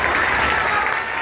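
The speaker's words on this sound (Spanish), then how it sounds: "Un aplauso al ingeniero." Crowd at a community road-paving inauguration applauding, a loud, dense wash of clapping that holds steady throughout.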